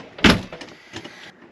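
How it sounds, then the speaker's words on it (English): The door of an Arctic Fox 990 camper is swung shut with a single solid thud, followed by a faint rattle and settling, with no one speaking. "I'm going to close this door."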